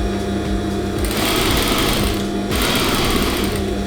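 A sewing machine top stitches fabric for a bat wrap for injured wildlife, a loud, steady rapid needle chatter running close and continuously with slight pauses in rhythm.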